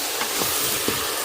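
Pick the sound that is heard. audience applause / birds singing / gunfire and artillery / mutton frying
mutton frying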